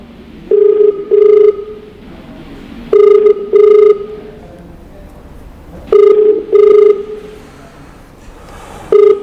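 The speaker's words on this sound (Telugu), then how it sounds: "రింగ్ అవుతుంది కాల్, లెట్స్ సీ." A phone call rings back through a handset: paired tone bursts repeat in a steady rhythm, loud and clear, with only faint background between rings.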